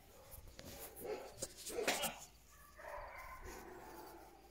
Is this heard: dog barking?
yes